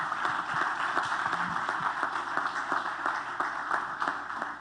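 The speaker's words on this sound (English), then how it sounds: "can we give them a round of applause for allowing them?" Crowd applause at a football awards show, a dense, steady roar of many hands clapping that fills the room at a constant level throughout.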